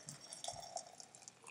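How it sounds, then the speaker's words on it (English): Hot water poured into a glass for home coffee makes a faint, quiet trickle with small drips and light glassy clinks, close to the microphone and heard alone. "So now we'll pour this inside."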